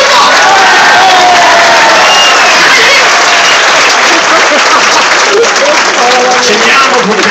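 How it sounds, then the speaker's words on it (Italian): Loud, close crowd applause with cheering at a final evening show, dense continuous clapping from a large audience with voices shouting through it. "se non con un grande applauso Aldo Basso e Santina"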